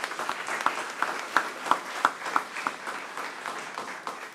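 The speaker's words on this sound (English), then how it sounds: "he definitely deserves a round of applause whether he's here or not" Applause from attendees at a county board of education meeting, a sustained wash of clapping with scattered sharper claps, moderately loud and fading toward the end.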